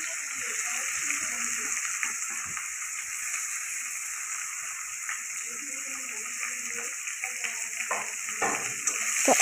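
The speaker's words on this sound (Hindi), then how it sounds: "अभी हम लोग ऑनियन सब दे देंगे यहाँ पे और अच्छी तरह से फ्राई कर लेंगे" Onions fry in a pan with a continuous hissing sizzle that stays steady and close, with a few soft clinks and bumps near the end.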